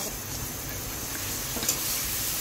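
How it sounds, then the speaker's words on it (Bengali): Garlic paste sizzles in hot oil as it is stirred in a pan for a chicken curry, a soft steady frying hiss with faint scraping, close and unbroken. "তো এটা নিয়ে দেওয়ার পর আমরা সুন্দর করে নাড়তে থাকবো।"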